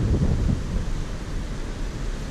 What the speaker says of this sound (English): Oh man, is it windy.